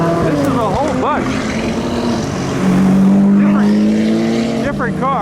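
Ferrari and other sports cars at Monterey car week cruise past one after another, a loud steady engine hum with a strong droning tone and pitch sweeps as each car passes close by, with voices talking over it.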